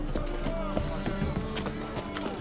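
Horse hooves clopping in The Witcher 3 video game, a quick irregular series of hoof strikes with a short neigh, heard under in-game voices and background music.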